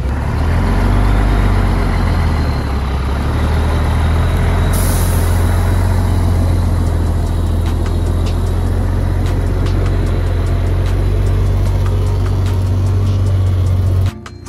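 A truck carrying a car strapped down with tow straps pulls away, its heavy diesel engine droning loud and close for over ten seconds, with an air brake hiss early on and faint clicks along the way.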